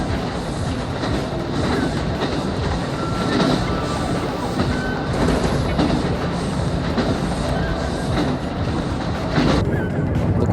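Inside a JR Hokkaido train running through eastern Hokkaido, a steady loud rumble of wheels on rails carries rhythmic clickety-clack joints and faint metallic squeals throughout.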